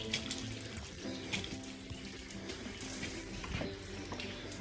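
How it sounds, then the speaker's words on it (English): An outdoor water tap feeding a hose during a patio power-washing job gushes and splashes steadily and close, with small knocks and gurgles as it is turned off. No one speaks. "let me just turn this tap off."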